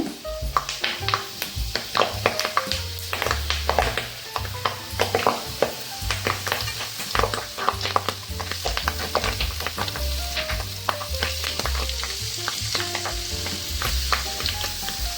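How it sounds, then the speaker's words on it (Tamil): Hot ghee sizzling in a pan as drumstick leaves are dropped in to test it, a dense crackling fry with rapid popping and spitting, close and fairly loud throughout, with a low rumble underneath and no speech. "இப்போ நல்லா நெய் காஞ்சிருச்சான்னு பார்க்கறதுக்கு இது மாதிரி முருங்கைக்கீரையை இப்படி வைங்க."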